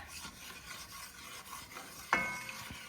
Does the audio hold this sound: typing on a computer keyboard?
no